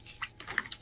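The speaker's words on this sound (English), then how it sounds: "I'm working right now shuffling the Animal Wise Tarot." Animal Wise Tarot cards being shuffled, giving a few quick, soft, close flicks and taps of card stock in a brief cluster with no talk.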